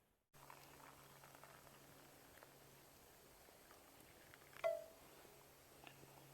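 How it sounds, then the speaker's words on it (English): Water at a boil, a quiet, steady bubbling hiss with one slightly louder pop partway through. "I think my water's boiling"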